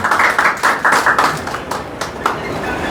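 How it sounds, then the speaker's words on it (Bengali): A small audience at a salon-work training gathering claps in a few distinct rhythmic bursts, close and fairly loud, fading to scattered taps toward the end. "একটা জোরে হাততালি দিই আমরা নিষেধ ভাইয়ের জন্য"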